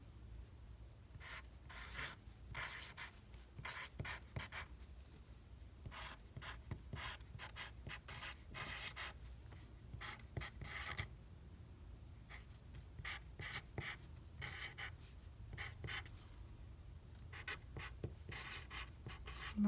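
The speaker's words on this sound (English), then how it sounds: "I'm going to write that down" Pencil writing an answer on paper: continuous close scratching strokes in short irregular bursts with brief pauses, quiet and steady over a faint low hum, no talk.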